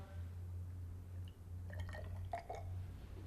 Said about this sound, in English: we're going to put some powder into this test tube here and add water